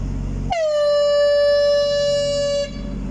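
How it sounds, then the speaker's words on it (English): A narrowboat's air horn blasting at a canal interchange: one sustained, loud, steady tonal blare lasting about two seconds over a background of engine and water noise. "shoot on the air horn"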